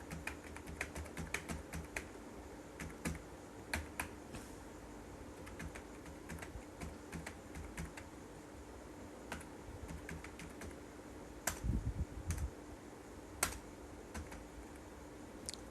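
Someone types on a computer keyboard while entering marks into a Microsoft Excel sheet, a close, quiet patter of key clicks in irregular bursts with short pauses and a few louder taps.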